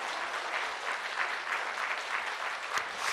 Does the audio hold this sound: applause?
yes